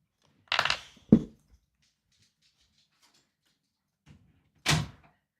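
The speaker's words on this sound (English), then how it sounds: "I'm going to close the door." An interior door is pushed shut, giving a couple of close, sharp knocks and a soft thud followed after a pause by one more firm bang, with near-silence in between.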